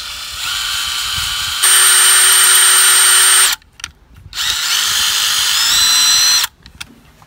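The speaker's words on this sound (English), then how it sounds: "And as you can see, it's drilling in pretty easily." A power drill boring into a wall to fit a garden hose wall mount whines loudly in two long bursts with a short pause between, its pitch shifting as it bores in, then stops.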